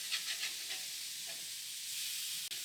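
Smash burger patties sizzle loudly and continuously on a hot griddle just after flipping, a dense, close hiss with a few faint scrape taps at the start and one brief knock near the end.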